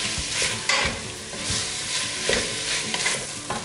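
Tomatoes sautéing in a pan for a Hünkar Beğendi stew, a steady sizzle with repeated scrapes and stirs of a utensil against the pan, close and fairly loud, no talking.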